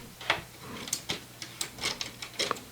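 A transfer tool picks up stitches on a knitting machine, giving a quick series of light, close clicks and ticks at an irregular rhythm, faint and alone without voices.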